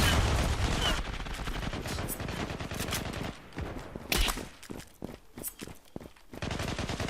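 Galil assault rifle fire in a shooter game: loud rapid bursts and single cracks, with pauses and quieter stretches between volleys.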